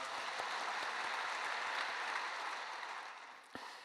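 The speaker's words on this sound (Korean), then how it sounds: "은혜의 말씀 전해주신 우리 목사님께 감사의 박수 드리겠습니다." A church congregation at an early-morning service claps together in sustained, fairly faint applause that gradually tapers off near the end.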